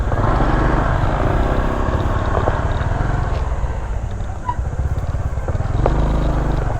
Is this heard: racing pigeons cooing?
no